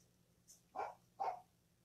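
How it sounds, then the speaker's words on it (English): A dog gives two short, sharp barks, close by, after a faint yip, with quiet background otherwise. "She's out there barking because her mother's not in the living room."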